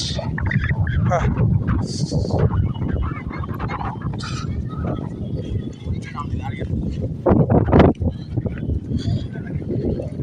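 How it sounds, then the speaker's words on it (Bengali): Strong wind roars steadily across the microphone in heavy, rumbling gusts at Asambosti bridge in Rangamati, Bangladesh, with faint voices and activity mixed in underneath. "শুনশান মহল, কিন্তু প্রচুর বাতাস"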